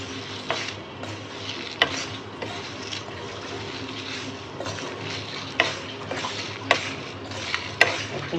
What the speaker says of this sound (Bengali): জিরা পাঁচফোড়ন শুকনো মরিচ আচারের জন্য দিয়ে দিলাম মশলাটা আমি ভাজ্যা দিয়ে দিই